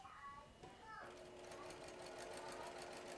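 A sewing machine stitches fabric in a fast, even mechanical chatter, starting after a few brief clicks and a short whirr and running on steadily and close by.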